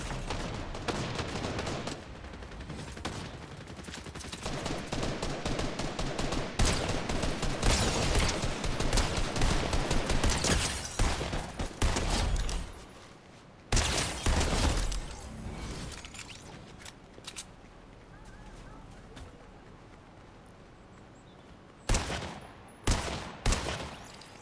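Gunfire from a suppressed sniper rifle in the Fortnite video game, on PS5, heard as dense, loud, rapid bursts of shots packed together for most of the stretch, thinning to a few isolated sharp cracks near the end.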